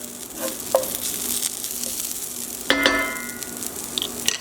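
Softened onions for balsamic burgers sizzling steadily in a hot pan, with a few sharp clicks and scrapes of stirring on top of the continuous close frying hiss.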